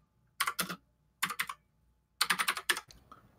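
Rapid bursts of clicking on a computer keyboard and mouse, coming in three quick clusters of sharp taps separated by short pauses, close and fairly quiet with no talking.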